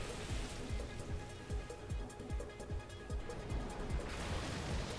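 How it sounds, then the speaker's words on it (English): Heavy rain pouring in the Coliseum of the Pokémon Battle Revolution video game, a dense continuous hiss of drops with a rapid patter of individual splashes, steady and moderately loud throughout. "It's pouring rain in the Coliseum."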